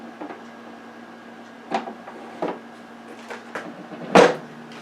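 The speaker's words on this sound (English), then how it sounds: "so I'm going to put this in the air fryer oven" A dish of habaneros stuffed with shrimp goes into an air fryer oven with a few dull knocks and clunks, a door-like thump near the end, close by against a low steady hum.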